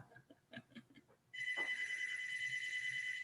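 Faint clicks and murmurs give way to a loud, continuous electronic ring from a landline telephone whose answering machine is set to pick up; the ringing holds steady to the end.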